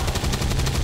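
A heavy cannon fires in XCOM 2: War of the Chosen, a single loud, dense burst of rapid rattling shots lasting under a second, close and alone.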